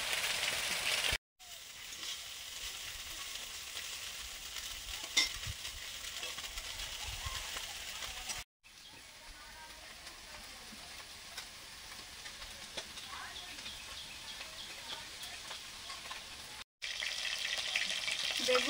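Small fish such as mrigal and catla fry in hot oil after being coated with salt, turmeric and chilli powder, a continuous soft sizzle with faint stirring, broken by a few brief silent cuts.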